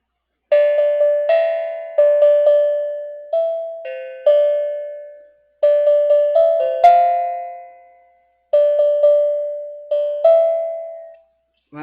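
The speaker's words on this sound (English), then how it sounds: "Tell me if you can guess what I'm trying to play with my my little tongue bell here." A small tongue drum struck like a little bell, ringing metallic notes tapped in short melodic phrases with pauses between them, each tone decaying clearly and played close and alone.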